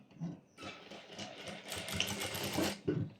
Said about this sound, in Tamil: எலாஸ்டிக் மேலே படாத மாதிரி ஸ்டிச் பண்ணணும்.